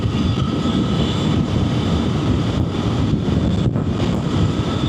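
A loud, steady Triumph Tiger 900 GT Pro engine roar, T-plane crank, with heavy wind rush over the microphone, continuous and unbroken, riding at speed.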